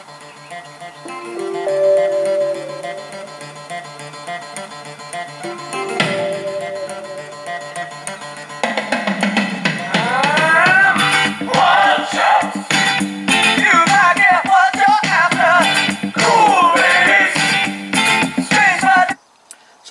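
A song plays through a Lava Bright Sounds 2 portable Bluetooth speaker: after quieter tones at first, the full dense, upbeat band mix with vocals kicks in loudly about halfway through and continues until a sudden stop.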